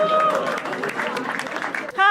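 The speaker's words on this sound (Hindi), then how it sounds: "make some noise for the first act. Sharon Verma के लिए जोरदार तालियां bro" A comedy show audience gives applause for the first act, with a wash of clapping and crowd noise under a loud, close host voice.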